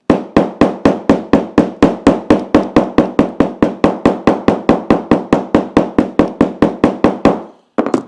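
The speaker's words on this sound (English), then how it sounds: "Then I'll go in with my hammer here." A hammer taps a leather French seam flat in a fast, even rhythm, dozens of close, crisp strikes in a row, stopping briefly before one last pair.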